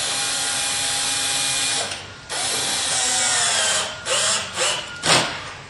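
A self-drilling stainless steel screw is power-driven into a metal bracket: a steady, loud drill whine for about two seconds, a brief pause, then more continuous driving ending in several short bursts as the screw seats.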